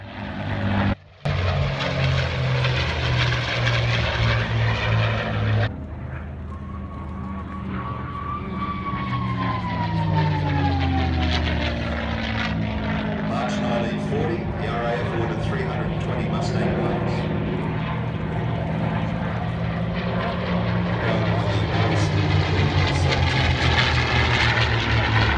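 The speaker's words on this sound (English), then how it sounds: "Making a spectacular entry, the P-51 Mustangs." P-51 Mustang piston-engined propeller fighters roaring past at the Flying Legends airshow at Duxford, a loud sustained engine drone with shifting pitch as they pass, under an announcer's commentary.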